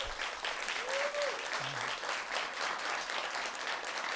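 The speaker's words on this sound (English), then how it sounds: "Let's give them a round of applause." A quiz bowl audience applauds the 4A state winners with a dense, even patter of clapping, fairly soft and distant, with a brief tonal sweep near the start.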